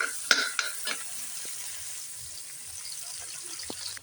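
Tomatoes, onion and other ingredients sauté for chicken tinola, with a steady close sizzle in the pan, a few sharp utensil scrapes and clinks, and faint talk in the background.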